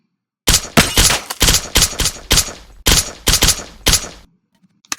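Gunfire from a new gun in a street-turf shooter video game: about a dozen loud, sharp shots fired in quick doubled bursts, punchy and close, ending abruptly into near silence.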